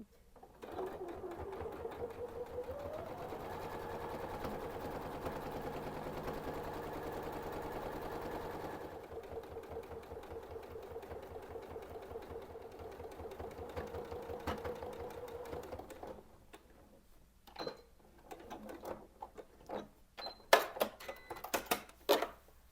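Sewing machine stitching in the ditch along the seams of a quilt, a steady close motor hum with rapid needle rhythm running about fifteen seconds, then stopping and giving way to scattered clicks and handling noises.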